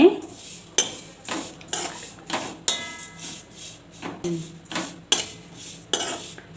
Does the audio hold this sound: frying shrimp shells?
yes